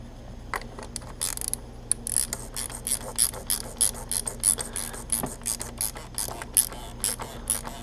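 Ratchet clicks in quick repeated bursts while an oil filter is tightened on a 2008-2012 Audi S5 4.2L V8, close and fairly crisp over a steady low hum, no talking.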